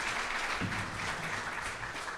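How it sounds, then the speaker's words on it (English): A steady round of applause from an audience at a business-community event, dense and even throughout, with no voices over it. "But please give them a round of applause."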